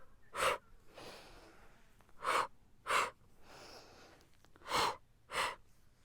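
Forceful exhaling breaths during a Pilates abdominal exercise: five sharp, close huffs at uneven intervals, some in quick pairs, with softer breathing in between.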